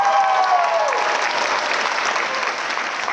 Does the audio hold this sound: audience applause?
yes